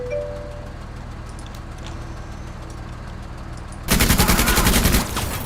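A chain gun team fires in the turn-based squad tactics game Menace, a sudden loud rapid burst of automatic fire lasting about a second and a half after a stretch of quiet ambient background.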